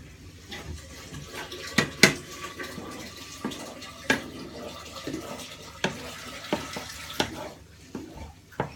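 A spoon stirs mushroom and chorizo risotto with garlic and herb salt in a pan, giving scattered wet clicks and scrapes at an uneven pace over a soft background.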